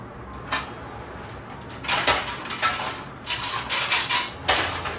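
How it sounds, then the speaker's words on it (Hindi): Pots, lids and steel utensils clatter and clink in a home kitchen while a pressure cooker is set up for rice and dal, sharp metallic bursts arriving in irregular clusters, close and fairly loud, with no talking. "तो अभी मैं कुकर लगा देती हूँ।"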